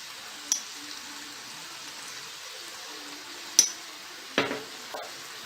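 Spices such as turmeric, cumin and ginger stirred in a pan for fish pastilla, soft quiet scraping over a faint background hiss, with a few sharp utensil clicks and knocks against the pan.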